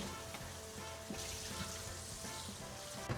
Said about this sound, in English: You want to cook them, sweat them down, get them softened, Right, get a get real caramelization on them